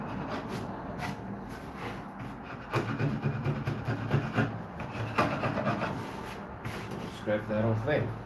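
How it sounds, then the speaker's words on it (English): A blunt hand tool scraping a wooden pedestal, a close, steady rasping rub with repeated strokes that runs continuously, louder in the second half. "Scrape that off there."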